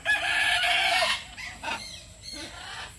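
A bad-tempered pet goose gives a loud, drawn-out call up close, followed by a few shorter, fainter honks, with no one speaking.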